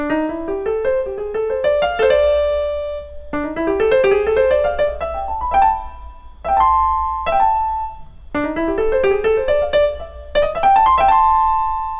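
A bright keyboard or piano plays quick ascending runs that land on sustained chords, repeating several times with short gaps between phrases.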